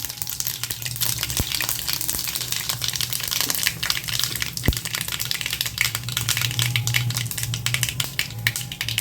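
Mustard seeds and asafoetida sizzle steadily in hot sesame oil for a Tamil wheat dosa, a loud continuous frying hiss with scattered crackles and a couple of sharp pops, no voices.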